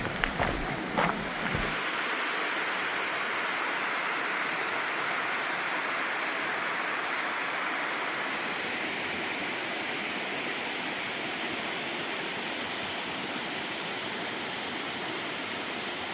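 A waterfall in the Sibiseonnyeotang valley of Seoraksan fills the air with a loud, steady rush of falling water that carries on unbroken. A few brief knocks sound near the start.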